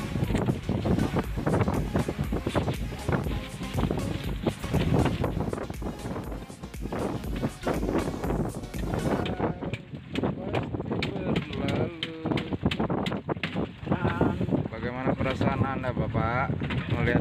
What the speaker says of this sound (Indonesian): Kencang angin.